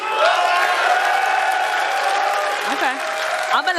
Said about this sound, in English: I'm going to let them cheer at that one.